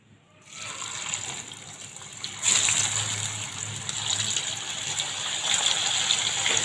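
Marinated chicken going into a hot karahi pan with cumin for Sindhi chicken karahi, a sudden loud sizzle that swells and stays as a steady, hissing fry close by.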